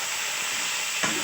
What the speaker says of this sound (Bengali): সামান্য একটু লবণ দিয়ে দিলাম সবজিগুলো ভাজার জন্য। আমি ঢাকনা খুলে নিলাম, নাড়াচাড়া করে দিচ্ছি।